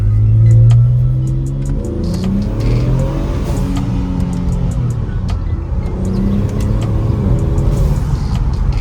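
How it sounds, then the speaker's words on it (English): A car engine revs and accelerates nearby, leaving a Cars and Coffee meet, with repeated short hissing bursts from a turbo blow-off valve between throttle changes. "Hear that blow-off valve?"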